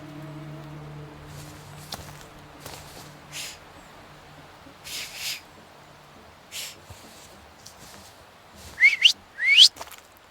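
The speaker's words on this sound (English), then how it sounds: "So, have you mastered whistling?" Whistling in The Thaumaturge comes as a few short rising whistles near the end, loud and close, after quiet ambience with soft footsteps and faint low tones.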